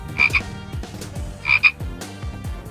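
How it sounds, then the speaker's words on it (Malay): A frog croaks in two clear bursts about a second apart, each a short throaty double-pulsed call over low repeated popping chirps. It sounds close and prominent, with no voices. "Tikus pula menemui seekor katak."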